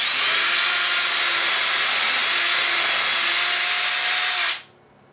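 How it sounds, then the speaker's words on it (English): A power drill pre-drills through the wooden mounting plate of a wall clamp rack, running as a loud, steady whine for about four and a half seconds and then stopping abruptly. "I recommend pre-drilling through the plate that's going to attach the clamp rack to the wall"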